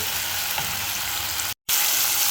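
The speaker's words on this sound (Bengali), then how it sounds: "লবণটা দিয়ে মশলাগুলোকে একটু ভালো করে কষিয়ে রান্না করব" Spices with tomato and green chili fry in a pan with salt, a steady close crackling sizzle that carries on evenly apart from a brief dead cut near the end.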